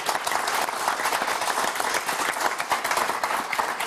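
A studio audience on the French game show Motus bursts into steady, dense applause that carries on without a break, loud and close, with no talking over it.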